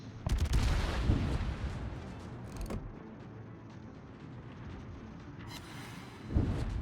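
Battleship Illinois main guns in the World of Warships game fire a long-range salvo, heavy booming blasts followed by rumbling, with another boom near the end.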